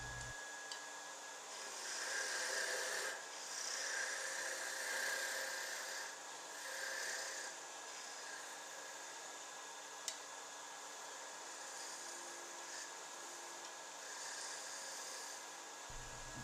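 A lathe turns bubinga wood into thin double-point knitting needles under light finishing cuts, giving a steady motor whine and a soft airy hiss that swells and fades over the whole stretch, fairly quiet and constant.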